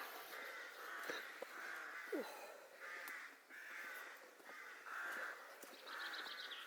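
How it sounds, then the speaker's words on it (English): Crows caw again and again outdoors in the village of Thornton-le-Dale, a steady run of harsh calls at moderate distance with open-air ambience behind them. "You hear them crows?"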